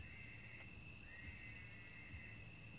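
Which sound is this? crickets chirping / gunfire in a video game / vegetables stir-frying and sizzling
crickets chirping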